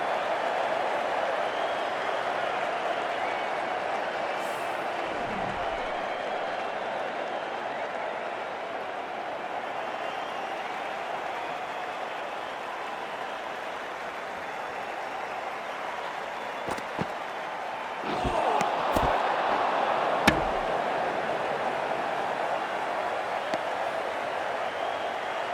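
A cricket stadium crowd during an India vs South Africa match keeps up a steady, distant roar for the whole stretch, with scattered claps and a brief swell of applause near the end.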